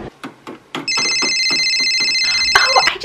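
A mobile phone rings indoors with a loud, steady electronic ringtone that starts suddenly and keeps going, after a few soft knocks and handling sounds, with a brief clatter near the end.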